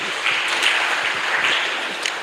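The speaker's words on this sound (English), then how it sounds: "Please, can we clap for ourselves," Audience applause at a fireside chat event, a dense steady patter of many hands clapping at once, sustained throughout.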